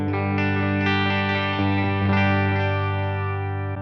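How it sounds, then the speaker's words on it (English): An electric guitar runs through a digital delay effect on a Boss Katana 100 MKII amp, sustained distorted chords with repeating echoes that trail each strum, loud and alone. "next on the delay sound, we're going to have a digital delay"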